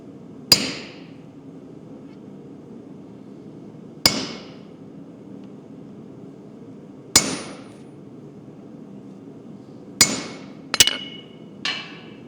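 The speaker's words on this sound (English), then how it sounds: "I can pick up my striker, my hammer, and I'm ready to go" Blacksmith's hammer striking hot metal on an anvil while forging a towel fitting for a bathroom set: six sharp ringing blows, spaced a few seconds apart with a quick double strike near the end, over a low steady forge hum.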